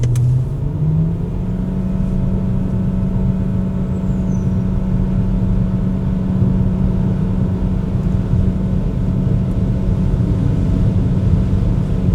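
A Proton e.MAS 7 plug-in hybrid's 1.5-litre engine accelerates hard in Power Mode, a loud, steady droning rumble with a rising pitch early on, heard from inside the car with no talking.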